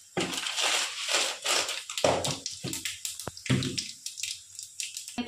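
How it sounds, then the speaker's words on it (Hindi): Cumin seeds hit hot oil in a pan for a tempering, giving bursts of loud crackling sizzle that rise and fade several times, crisp and close, with no speech. "अब हम जीरा का तड़का देंगे इसमें"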